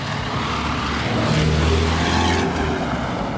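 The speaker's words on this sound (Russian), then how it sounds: "Гоняют вот такие тачки." Cars driving along a very dusty road in Uzbekistan: a steady, moderately loud engine drone and road rumble rises slightly midway, like a vehicle passing close by, with no talk.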